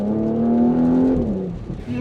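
Porsche Macan GTS engine revving close by, a steady rising tone that climbs and then falls away as the revs drop, with no talk over it.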